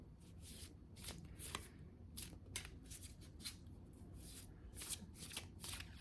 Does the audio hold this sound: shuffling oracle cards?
yes